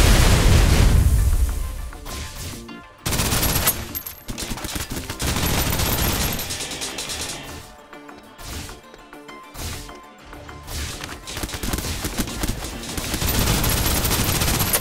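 Sustained gunfire in the Snowbreak: Containment Zone shooter game, loud bursts of automatic fire and impacts with brief pauses, dense and continuous through most of the stretch.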